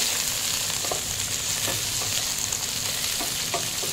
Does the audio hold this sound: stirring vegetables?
yes